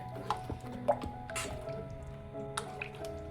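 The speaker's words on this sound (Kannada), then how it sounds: "ಅವರೇ ಬೇಯಿಸ್ಕೊಂಡಿರೋ ನೀರು ಆ ನೀರನ್ನು ಸೇರಿಸ್ಕೊಳ್ತಾ ಇದ್ದೀನಿ" Water from boiled field beans (avarekalu) is poured into a cooking pot, making faint dripping and splashing with a few small splats, alone and close by.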